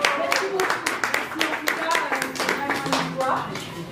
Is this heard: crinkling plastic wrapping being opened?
no